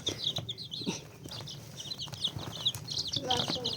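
Chickens cluck and a rooster calls among the flock while a person talks nearby, with some wing flapping and scratching in the background.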